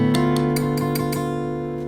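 An electric-sounding guitar plays the D Dorian scale as a quick run of about half a dozen single picked notes, each ringing into the next at a steady, moderately loud level with no voices.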